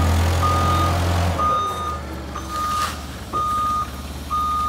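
Forklift reversing alarm during a pre-start check, giving a steady series of loud, evenly spaced high beeps over a low engine rumble, with a couple of brief pauses between runs.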